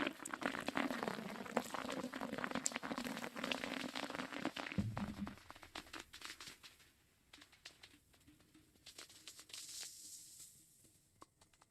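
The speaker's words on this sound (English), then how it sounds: "That was like a ton of sizzle at the top." Steady crackling sizzle of food frying, dense and close at first, then thinning to softer scattered pops.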